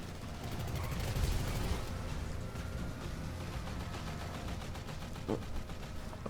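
Sustained automatic gunfire from an Insurgent's mounted gunner in GTA Online, a dense rattling burst that rolls on continuously with sharper cracks near the start and a later hit, set amid engine and game noise.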